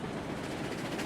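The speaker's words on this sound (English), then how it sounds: "It's kind of nice to be running a little bit of a longer train." A long train with a caboose runs along the track in the RailRoads Online video game, giving a steady, dense rolling rumble with continuous wheel noise throughout.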